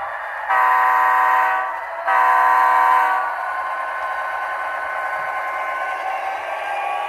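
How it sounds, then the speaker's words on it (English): A model train sounds two long horn blasts, each about a second, then rolls on with a steady mechanical rumble, close and fairly loud. "Now arriving, train number 9139."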